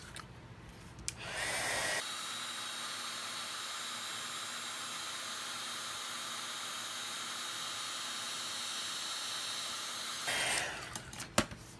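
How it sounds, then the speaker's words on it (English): A heat tool runs steadily for about eight seconds, melting embossing powder on a card-making project, a loud, even blowing hiss that starts and stops abruptly. "we're gonna heat set this."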